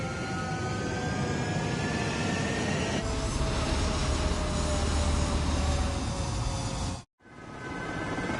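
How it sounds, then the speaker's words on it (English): In the Ace Combat video game, a fighter jet takes off with a loud, rising engine whine over a roaring rush, broken by a brief dropout before the roar resumes. "Mage 2, clear for takeoff."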